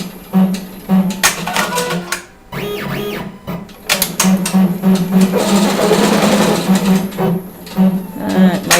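An embroidery machine stitches a design onto a pink headband, giving a steady mechanical whirring with rapid needle clatter and rhythmic ticking throughout, briefly dipping before resuming at a busy, close pace.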